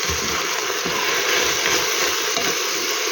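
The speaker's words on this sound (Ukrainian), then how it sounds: "Смажиться." Steady, dense sizzling of plov (pilaf) ingredients frying in a pan, a continuous crackling hiss with faint low bumps, loud and close throughout.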